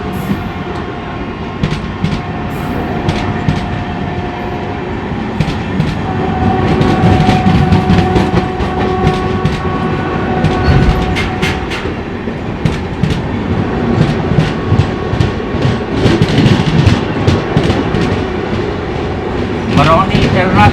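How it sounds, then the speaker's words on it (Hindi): The Raptisagar Superfast Express, Barauni–Ernakulam, rolls by with loud, continuous clickety-clack of wheels over rail joints and rumbling coaches heard from close range, with a brief horn-like tone and some voices in the background. "राप्ती सागर सुपरफास्ट कवच फिटेड लोगों के साथ जा रही है।"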